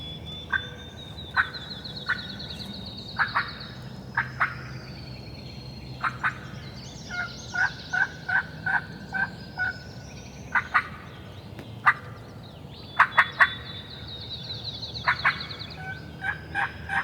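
Wild turkeys gobble repeatedly in the woods near Lookout Creek, sharp rattling bursts coming every second or two from a moderate distance, some overlapping in quick clusters over a quiet outdoor background.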